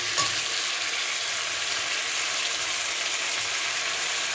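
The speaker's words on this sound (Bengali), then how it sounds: "এটাকে ভালো করে কষিয়ে নেবো।" Fish curry with cauliflower and potato sautéing in a pan gives a loud, continuous hiss and sizzle, steady throughout with no voices.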